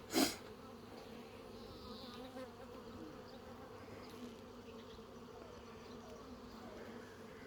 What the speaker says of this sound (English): See, there's a bee on the bottom in the centre.